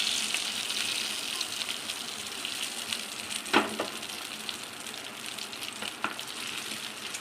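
Tempering spices, a pinch of asafoetida among them, sizzle steadily in hot oil for a South Indian bisi bele bath, a close, continuous frying hiss with a couple of sharp stirring clicks and no talking.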